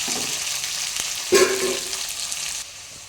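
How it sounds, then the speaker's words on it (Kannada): Onions frying in a pan until reddish, a close, steady sizzle with a brief louder burst and a stirring clink partway through, dropping a little quieter near the end. "ಆಮೇಲೆ ಈರುಳ್ಳಿ ಹಾಕಿ, ಸ್ವಲ್ಪ ರೆಡ್ ಆಗೋವರೆಗೂ ಡಿಪ್ ಮಾಡ್ತಾಯಿರಿ"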